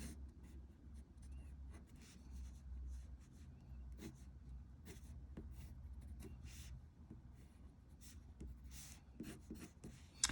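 Steady scratchy strokes of a white pencil moving across paper, close and continuous, with brief sharper scrapes scattered throughout.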